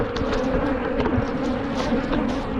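Angry bees swarm around a hive split from a double brood colony in an apiary. A dense, loud, continuous buzzing hum fills the scene up close.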